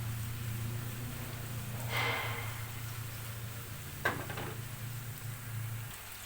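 Food frying in hot oil in a pan, a quiet steady sizzle with a low background hum, plus a couple of brief louder crackles or clatters around the middle.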